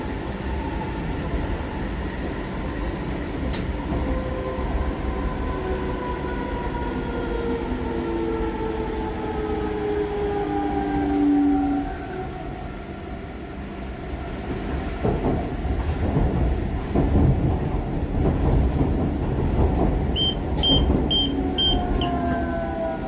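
Sofia Metro train riding from Vitosha station to Sofia Airport station in February 2021: a steady, loud rumble of wheels and car noise, with rising and falling motor whine and brief electronic tones near the end.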